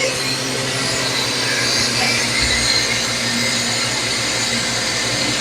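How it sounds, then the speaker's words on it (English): Air rushes steadily as the vacuum is released from a home freeze dryer holding roasted sweet potatoes, a loud, constant hiss and whoosh lasting throughout. "we're going to release the vacuum off of here"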